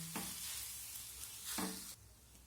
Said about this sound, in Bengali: এখন সব কিছু নেড়ে চেড়ে মিশিয়ে নিলেই আমার পুরটা রেডি হয়ে যাবে